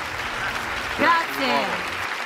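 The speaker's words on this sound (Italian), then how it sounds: "sul palco un applauso per Davide!" An awards ceremony crowd applauds on stage at the Le Fonti Awards: a continuous wash of clapping that swells briefly while a voice speaks over it.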